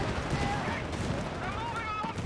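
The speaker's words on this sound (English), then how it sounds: "Bazooka fire there against the Achtergaard" Bazooka fire and ongoing combat in the WWII strategy game Company of Heroes 3. There is a dense, continuous clatter of gunfire and blasts, with a commentator talking over it.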